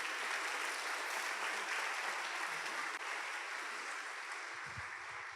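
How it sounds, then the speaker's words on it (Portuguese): A church congregation applauding during a sermon, a dense steady wash of many hands clapping at moderate distance, fading slightly toward the end. "Dê um aplauso ao Senhor por isso"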